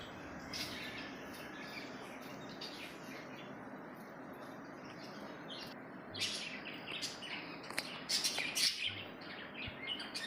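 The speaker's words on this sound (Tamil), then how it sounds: "லவ் பேர்ட்ஸ் வச்சுருந்தாங்க. அதுங்க கிச்சு கிச்சின்னு போகிற சத்தம் ரொம்பவே நல்லா இருந்துச்சு" Pet lovebirds near a church chirp and tweet in quick, scattered bursts over a constant hiss of outdoor ambience with faint insects, growing busier toward the end.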